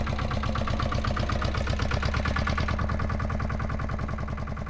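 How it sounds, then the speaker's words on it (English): A three-wheel road-legal tractor engine runs steadily nearby with a rapid, even chugging pulse that holds throughout and fades slightly toward the end. "it's called a three-wheel tractor"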